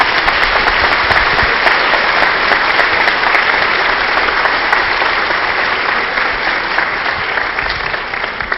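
A lecture audience gives loud, sustained applause to the speaker Flávio Gikovate, a dense, even roar of clapping that tapers slightly toward the end.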